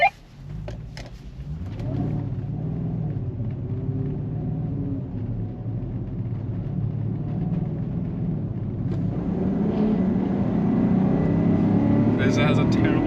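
A 2022 Land Rover Defender V8 and a Ford Raptor F-150 launch in a drag race, heard from inside one vehicle as a steady loud engine roar rising slowly, with people talking over it.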